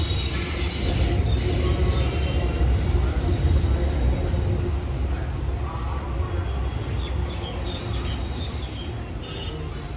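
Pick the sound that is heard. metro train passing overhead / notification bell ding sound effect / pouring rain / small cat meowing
metro train passing overhead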